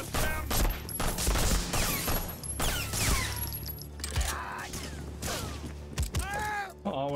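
Enemy gunfire in Medal of Honor Frontline crackles in dense, repeated volleys of loud shots amid other combat noise and whistling effects, with no talking.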